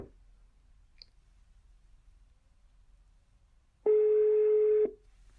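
A telephone line gives a single steady dial tone lasting about a second after quiet, preceded by a faint click, close and clean with no voices.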